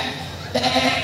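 A man imitates a goat bleating with his voice, giving one short, wavering nasal bleat after a moment of low background noise.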